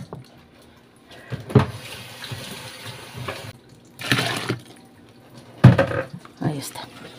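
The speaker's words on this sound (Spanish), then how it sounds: "Le voy a poner 2 litros de agua a mi tinita para enjuagarla." Water poured into a small washtub while rinsing laundry, several short splashing, gushing bursts separated by quieter pauses, with a voice speaking in between.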